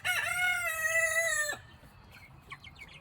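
A white Plymouth hen lets out a loud, drawn-out call lasting over a second, followed by a few soft, short clucks nearby.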